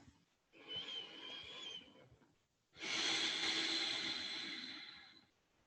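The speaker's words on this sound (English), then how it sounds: "you might take a couple breaths here, 2 to 3 breaths, to simply observe" Two slow, deep breaths, a long inhale followed by a longer, fuller exhale, close and steady in a quiet room during a seated relaxation exercise.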